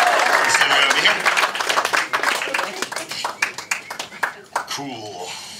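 Audience at the Magic Castle magic show breaks into loud applause that thins into scattered claps and fades out, with a voice talking over it.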